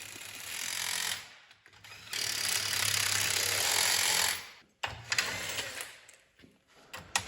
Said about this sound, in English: Everything is snugged up using nut drivers so that we don't over torque the fasteners.